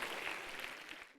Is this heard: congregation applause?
yes